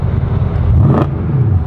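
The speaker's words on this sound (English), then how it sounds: "Do a rev, dude. Please do a rev, just don't hit me." A 1550-horsepower Nissan GT-R engine revs hard once, a sharp rising burst over a loud, constant low idle rumble, then settles back to the deep idle close by.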